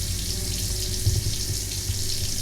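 Water runs steadily from an under-sink faucet fitted with a Clearly Filtered 3-stage filter, a continuous broadband hiss and splash filling a container, with no pauses.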